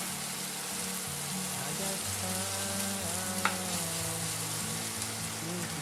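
Onions with garlic, thyme and clove browning in a pan for braised ham, a steady close sizzle and fry with faint stirring and a few light clinks.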